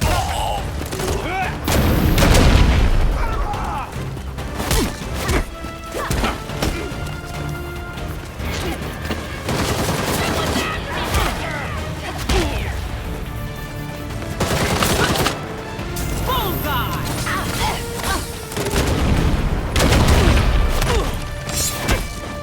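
Gunfire and smashing impacts in the superhero action game Gotham Knights, loud repeated bursts mixed with crashes, booms and music during a busy fight, with voices shouting over it.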